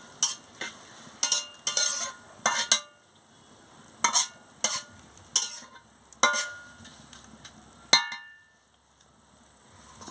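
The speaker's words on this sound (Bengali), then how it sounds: "সামান্য নুনটা দিয়ে দিচ্ছি, দিয়ে ভালো করে নাড়িয়ে চাড়িয়ে নিচ্ছি।" Papaya chutney with salt being stirred in a pan: a run of crisp, rhythmic scrapes and clinks from a utensil against metal, close and clear, in short bursts with quiet gaps between them.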